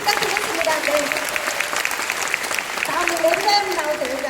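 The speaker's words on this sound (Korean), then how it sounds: "촬영 경례 큰 박수 부탁드리겠습니다." Audience clapping fills the clip steadily, a dense patter of hands from a crowd, with voices mixed in.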